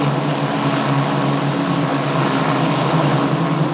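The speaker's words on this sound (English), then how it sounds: "The green flag flies and we race once again this afternoon at Vallelunga here in Rome" Italian F4 single-seater race cars accelerating together at Vallelunga near Rome after a green flag restart, a loud, steady, dense engine roar close by.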